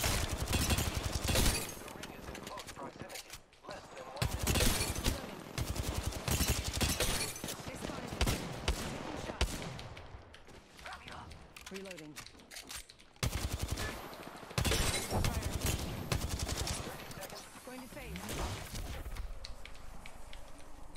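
Gunfire in Apex Legends, dense bursts of rapid automatic fire and fusillades in loud clusters separated by short gaps, with occasional clinks and faint background sounds.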